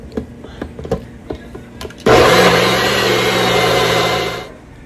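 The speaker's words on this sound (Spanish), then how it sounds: "La molemos perfectamente por unos minutitos." A blender grinds pineapple with milk for a creamy piña colada agua fresca, starting abruptly into a loud, steady whirring roar close by that holds for a couple of seconds before winding down.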